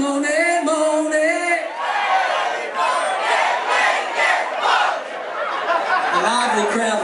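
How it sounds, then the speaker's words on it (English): Lively crowd at a concert at Padonia Station, shouting and cheering in a loud, near wash of voices with chatter and laughter mixed in. "A lively crowd we got tonight."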